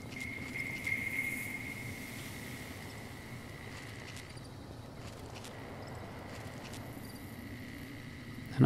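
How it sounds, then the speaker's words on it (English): A bloatfly, the giant fly of Fallout New Vegas, gives off a steady, thin buzzing drone over low game ambience for several seconds, fading briefly midway before returning. "it's just a bee flying, that is bloatfly"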